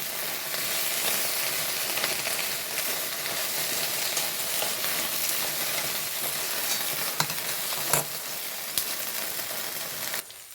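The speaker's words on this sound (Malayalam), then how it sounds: "വെണ്ടയ്ക്ക വാടിക്കുന്നേ" Okra sautés in a pan for Onam sambar, making an even, close frying hiss for most of the stretch, with a few sharp utensil knocks toward the end and no voices.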